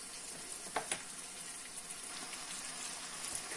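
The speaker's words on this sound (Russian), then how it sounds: "в первую очередь чуть-чуть прожарим лучок, чтобы он дал сок у нас" Onion fries in about 300 grams of vegetable oil in a pot, giving a faint, steady sizzle with a couple of soft pops near the start and no talk.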